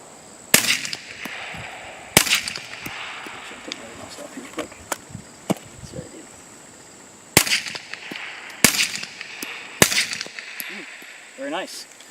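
A 9mm HK P30L pistol fitted with a Griffin Revolution 45 suppressor in its short K configuration fires subsonic rounds: five sharp, muffled shots in two spaced groups, each a quick crack with a brief tail, separated by quiet gaps.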